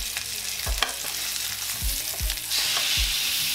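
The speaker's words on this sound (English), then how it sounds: "So what we'll do is kind of pan sear these for about maybe 2 to 3 minutes and flip it over." Country-style BBQ ribs sizzle steadily while pan searing, a close, continuous frying crackle punctuated by a few low thuds and scrapes as the pieces are moved and flipped; no one speaks.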